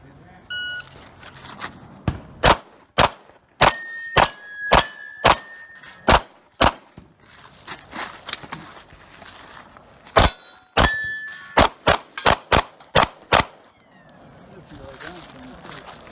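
A Smith & Wesson M&P9 2.0 Compact pistol fires about eighteen sharp, loud shots in two rapid strings, each crack cutting off cleanly, with quieter pauses and faint background noise between them.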